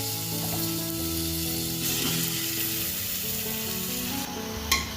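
Raw chicken pieces dropped into a hot pan with spice paste, turmeric and salt for chicken ukadi soup, sizzling and frying steadily and loudly throughout with some stirring and a clink near the end.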